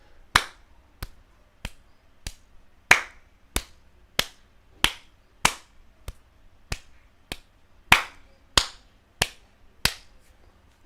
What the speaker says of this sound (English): middle finger, clap, reverse clap, clap, reverse clap, and we're back.